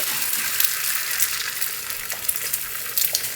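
Three cracked eggs fry on the end of a hot flat-top grill, a loud, continuous crackling sizzle with sharp pops. It is close and steady throughout, with no voices.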